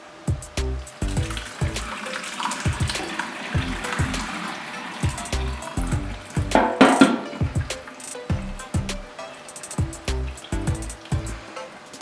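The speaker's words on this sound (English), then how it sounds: "here I have taken a plain strainer, and on top of that a cotton cloth or muslin cloth, and I'll be pouring this." Liquid is poured through a muslin cloth laid over a plain strainer while making chum chum sweets, giving an uneven run of splashes, trickles and drips with small knocks, close and moderately loud.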